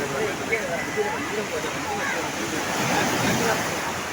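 Surf rolling in on the muddy shore of Velankanni beach, a steady roar of waves with wind rumbling against the microphone and voices talking over it.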